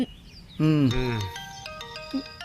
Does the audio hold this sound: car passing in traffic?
no